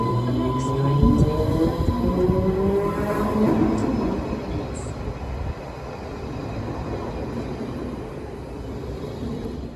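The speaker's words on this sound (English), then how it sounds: "The train now approaching is to West Ealing." A London Underground Central Line tube train, converted battery-powered stock, rumbles into the platform with a rising whine that fades as it slows, fairly loud and close.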